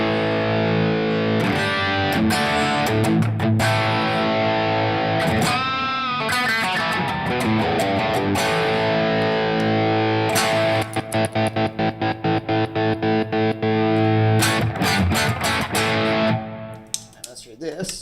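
Electric guitar run through high-gain overdrive on a small travel pedalboard, loud, saturated sustained chords and riffs with bends and choppy muted strums toward the end.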